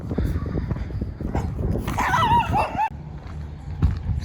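Tiny dogs on a hiking trail near Superior, Arizona, bark and yelp close by in a short excited burst amid footsteps and movement.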